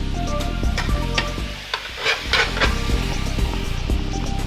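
Food that has cooked down sizzles loudly and steadily in a pan while a utensil pushes it to one side, leaving scraping and stirring strokes over the constant frying hiss.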